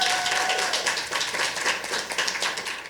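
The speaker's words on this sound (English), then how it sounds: "Let's give the Mocha Jumbies a round of applause." An audience applauds the Mocha Jumbies performers: dense, steady clapping from many hands fills the whole stretch at close range, with no voices over it.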